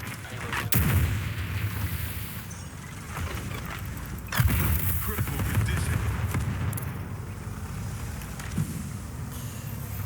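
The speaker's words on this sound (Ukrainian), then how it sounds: "Давайте авіаудар дамо." Heavy booming blasts from an airstrike in the online tank game Project CW, with big impacts near one and four seconds over a constant rumbling battle din, no speech.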